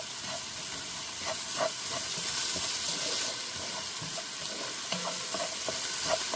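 Onions with a pinch of salt frying in a pan, a soft continuous hiss and sizzle with occasional faint stirring taps, fairly quiet and steady.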